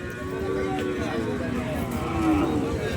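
Sahiwal and Gir cattle low at a crowded border-area cattle market, drawn-out moos rising over a dense murmur of crowd chatter and nearby voices.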